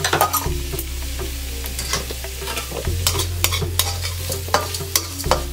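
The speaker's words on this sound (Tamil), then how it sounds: "நம்ம இப்போ வெங்காயம் போட்டு ஒரு 2 மினிட்ஸ் ஆகிட்டுருக்கு." Onions frying in oil with a pinch of salt for a Mysore masala dosa filling, steady sizzle with repeated clattering stirs of a spoon against the pan and a low background hum.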